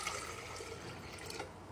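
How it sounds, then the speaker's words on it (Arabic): Milk pours into a large jug, a short, close, steady liquid gush that splashes and fills, heard alone for under two seconds. "راح احط الحليب في جك كذا كبير"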